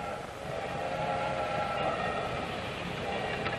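A train rumbles steadily nearby in an old movie scene, a continuous moderate roar with a faint tonal hum, and no voices over it.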